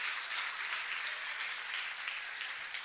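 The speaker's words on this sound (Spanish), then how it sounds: "Den un aplauso al Señor" Church congregation clapping in praise during a Spanish-language sermon, a steady wash of applause from many hands at moderate, slightly distant level, even throughout with no voices.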